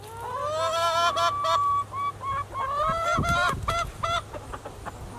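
Loose house chickens squawk and cluck loudly in a coop, a string of nasal calls in quick bursts with short pauses between them.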